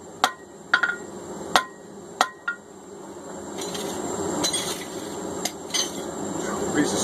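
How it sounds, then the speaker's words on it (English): S7 tool steel forged to a taper under a hammer, sharp metallic strikes ringing out one after another at a steady pace, then softer, denser tapping and clinking as the work goes on, close and clear. "We're just going to try and taper it down."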